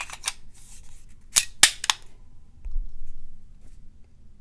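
Plus-2 extended magazine seated into a CZ P10s pistol: a few sharp, close metallic clicks and snaps in the first two seconds, followed by faint low handling noise.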